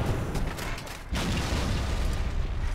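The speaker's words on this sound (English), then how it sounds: "Damn it. Grenades." Grenade explosions in Halo 2: loud, heavy booming blasts rumble continuously, with a sharper burst around the middle and dense low-end roar throughout.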